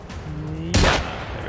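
A single loud gunshot in the video game Generation Zero, a short sharp burst that rises abruptly over steady background game sound, with no voice over it.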